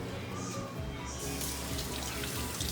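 A boiled potato being scooped out of a big pot of water while cooking potato salad for 150 people, giving a loud, continuous sloshing and splashing that lasts a few seconds.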